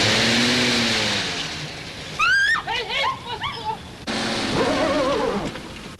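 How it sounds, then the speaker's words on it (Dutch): A car engine revs and strains nearby while a voice speaks, with sharp squealing tones rising and falling over the engine noise. "Dat is de auto die u hoort."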